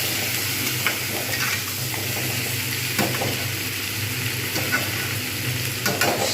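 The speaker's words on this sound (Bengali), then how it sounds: "শিমের সঙ্গে আলু, মাছ এগুলো ভালোভাবে কষলে মশলাটা ভালোভাবে কষা হয়ে গেছে" Rohu fish with flat beans, potatoes and spices stir-fried in a pan, giving a steady loud sizzle with scraping stirs and occasional clinks of a utensil, continuous and close, no talking.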